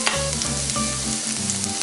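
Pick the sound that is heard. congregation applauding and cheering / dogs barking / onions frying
onions frying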